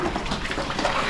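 Water being poured out for farm animals, a brief continuous splashing and gushing stream that is close and fairly loud, with no talk over it.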